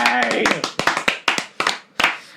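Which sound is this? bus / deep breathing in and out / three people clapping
three people clapping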